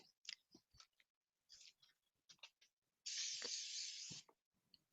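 A short hissing burst from a spray paint can onto a piece of foam core, about a second long, close up, surrounded by quiet clicks and handling noises.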